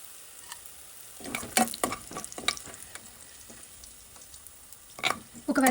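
Sliced onions frying in oil for paneer biryani, with scraping stir strokes over a soft steady sizzle that come in clusters, louder bursts near the middle and end, close by.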